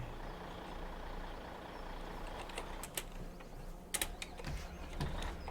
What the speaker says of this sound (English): I turned the truck off on accident.